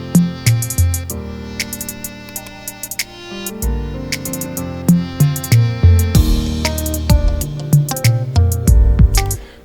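A full, loud beat made in FL Studio plays with punchy low kick and bass hits, crisp hi-hat ticks and layered melodic synth chords that shift through changes, with no voices.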